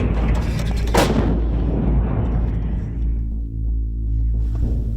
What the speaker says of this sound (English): The order was given for mortar and 2 Caesar cannons that had just been deployed after a 500-kilometer journey to fire a round of 12 shells on rebel positions